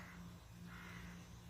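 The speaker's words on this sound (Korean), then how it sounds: "까마귀도 울고." A crow caws faintly in the distance at a hillside park near a Buddhist temple, a couple of hoarse calls over a soft steady background hum, with no one speaking.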